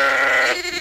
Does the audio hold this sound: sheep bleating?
yes